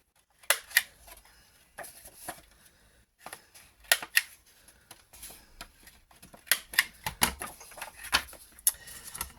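Paper edges and corners being rounded for a junk journal, a series of soft, close clicks and snips in uneven bursts, quiet, with no talking.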